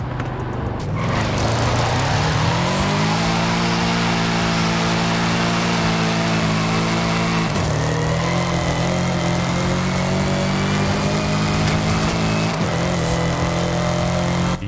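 A Lexus LC 500 engine in Forza Horizon 5 revs loudly and continuously, its harmonic tone climbing, holding steady, dipping and rising again, with no talk over it.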